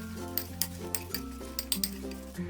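Fruit pieces with chopped cashews and almonds stirred in a bowl, a spoon clinking against the dish several times in an uneven rhythm over a steady background hum.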